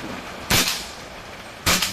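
Two sharp, loud rifle shots at an outdoor shooting range, about a second apart, each with a short echoing tail against a steady background hiss.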